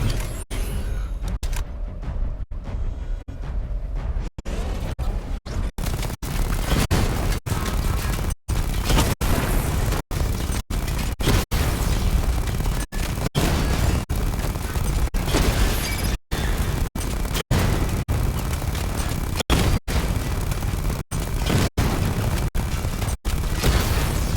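Heavy missile barrage explosions in a video game, a dense, loud, nearly continuous roar of booms with rapid sharp impacts punctuating it throughout, no talking.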